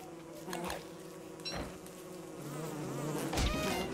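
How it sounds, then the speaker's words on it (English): Killer bees in the video game Don't Starve buzz steadily and close, a dense swarm hum running the whole time, with a few soft thumps and clicks from in-game attacks mixed in. "Let's attack these killer bees."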